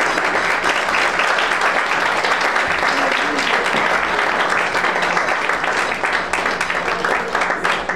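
Wedding guests give a sustained round of applause at a reception, steady dense clapping from many hands filling the room throughout, with scattered voices underneath.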